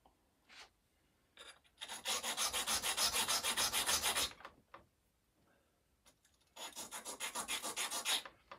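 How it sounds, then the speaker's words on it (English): Ceramic tile edge scraped against a grinding stone while making a mosaic table top: two sustained, rhythmic rasping strokes of roughly three and two seconds, close and fairly loud, with a few short scrapes and quiet gaps around them. "So you can just grind that off. It just takes a couple of scrapes across the stone"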